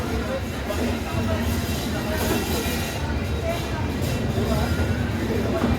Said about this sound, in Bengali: ট্রেন স্টেশন থেকে এইমাত্র ছাড়লো।